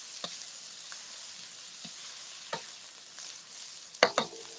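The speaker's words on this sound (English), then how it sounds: "So let me just do the onions for like 30 seconds first." Onions stir-frying in a hot wok on a grill: a steady, fairly quiet sizzle with a few soft spatula knocks, then a sharper pair of metallic clanks near the end.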